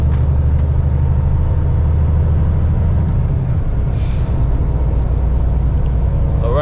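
A class A truck accelerating to merge onto a freeway, its engine droning loud and steady from inside the cab with a brief air-brake hiss partway through and no talking.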